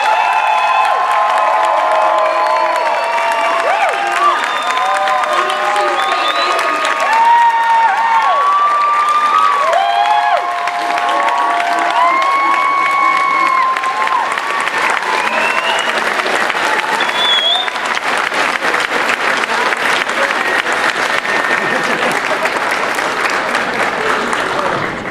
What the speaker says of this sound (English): Does anyone in here want to give your advisor a round of applause?